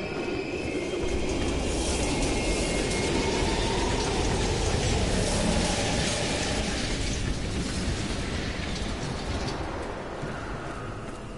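A video game train rumbles past close by in Call of Duty: Cold War, a dense rolling clatter of wheels and mechanical rattling that holds steady, then eases slightly as it moves away.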